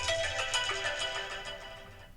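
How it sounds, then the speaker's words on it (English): A phone alarm rings with a short electronic melodic tone, a repeating chime pattern heard fairly softly for a couple of seconds with no talk over it. "that's my alarm to remember to check my recorder"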